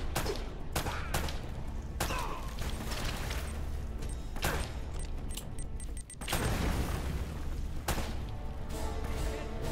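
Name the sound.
grenade explosion and gunfire in Uncharted video game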